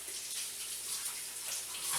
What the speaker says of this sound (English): Let me wash my fingers.